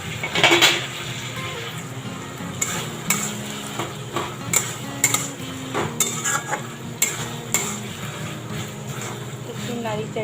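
Pre-fried chicken gets stirred into a pan, with a utensil scraping and clinking against the metal at an uneven rhythm over a low, steady sizzle, close and fairly loud.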